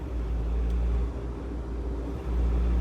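A converted Mahindra Scorpio Classic SUV engine rumbles steadily up close, a deep continuous drone with a slight swell near the end rather than sharp revving peaks.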